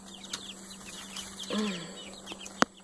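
A Buff Orpington chicken clucks and murmurs among steady background birdsong, with a sharp brief knock near the end; no talking.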